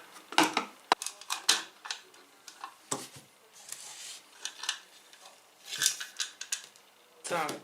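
Small metallic clicks and scrapes from a screwdriver working the screws on the bottom cover of a Maestro unit, irregular close taps and rattles with brief pauses between them.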